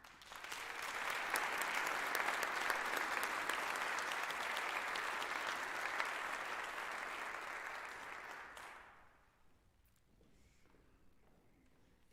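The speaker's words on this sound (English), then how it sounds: "let's take a moment to applaud this amazing work" An audience at an interfaith convening gives sustained applause, dense clapping for about eight seconds that then thins out and fades into near quiet with a few scattered claps.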